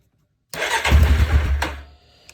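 A rebuilt Yamaha Kodiak 450 ATV engine fitted with a high-compression piston cranks and fires up, a loud close burst of revving that settles toward a lower idle after a couple of seconds.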